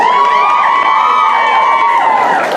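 Crowd at a cosplay parade cheering and shouting in a loud, sustained roar of mixed voices, close and continuous throughout.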